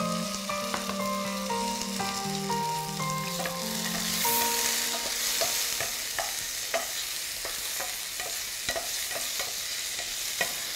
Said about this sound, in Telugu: ఇందులో వేసుకుంటున్నాను నేను టమాటో ముక్కల్ని